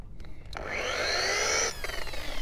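A polisher with buffing compound spins up on low speed against a boat's gel coat topsides, a close, steady whirring rub that rises, holds for about a second and then stops.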